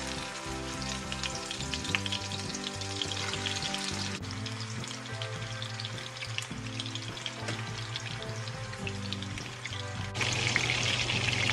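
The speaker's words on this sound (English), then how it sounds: "When the oil in the pan is hot, add as many meatballs as will fit in without crowding the pan." Meatballs frying in hot oil in a skillet over medium-high heat, a constant crackling sizzle heard beneath steady background music, with no voices.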